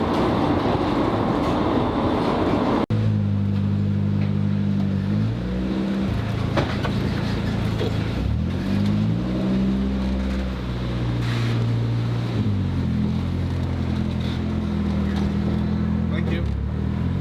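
Interior rumble of a Eurotunnel shuttle carriage carrying a lowered, wide-ish car, a loud continuous low drone with shifting tonal hums as the train moves, and someone talking over it.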